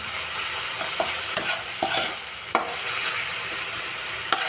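Spice paste with green chillies fries in a pan for a rohu fish curry, a steady bright sizzle broken by a few sharp clicks of a spatula stirring against the pan.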